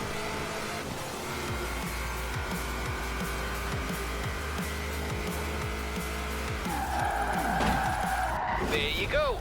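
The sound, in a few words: car drifting, tires skidding in video game Forza Horizon 4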